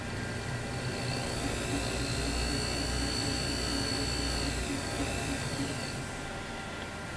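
Small drill boring into a watch jewel setting to find center while making a part for a 21-jewel Illinois pocket watch, a steady whining drone with a high-pitched tone running continuously and close by.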